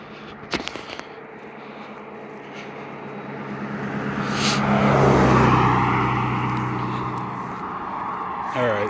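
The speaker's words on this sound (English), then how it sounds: "I'm going to wait until this car goes by." A car passes along a road outdoors, its noise swelling from a faint approach to a broad, loud rush near the middle, then fading slowly, with a few sharp knocks near the start.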